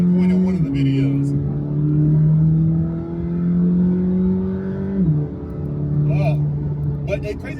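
Twin-turbo engine of a 2026 Chevrolet Corvette C8 ZR1, revving in steady sweeps that rise and then drop back to a deep idle, loud and close, with a few short knocks near the end.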